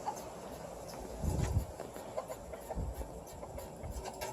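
A backyard hen that wanders over to lay eggs clucks a few times, the soft calls faint and scattered over quiet outdoor garden ambience.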